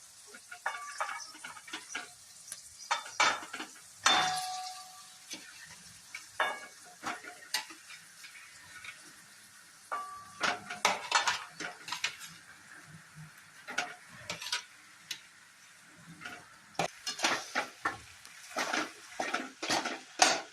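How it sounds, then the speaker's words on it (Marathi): Potatoes tossed into a hot pan of spiced oil for Punjabi samosa filling sizzle and fry while a spoon stirs and scrapes in busy, irregular bursts, close up, with no voices. "आणि ते छान हलवून घेऊया. आणि आता त्याच्यात बटाटे टाकूया."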